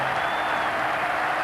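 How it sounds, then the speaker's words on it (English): Steady applause from cricket teammates up on the pavilion balcony at a Test match in 1994, a dense continuous clapping from a distance with a faint crowd murmur underneath. "Applauded by his own teammates up in the balcony there in the pavilion"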